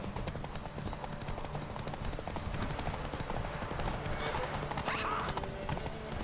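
Hooves of a horse pushed to full speed in The Witcher 3 drum in a fast, continuous gallop, close and prominent, with game music and a voice woven underneath.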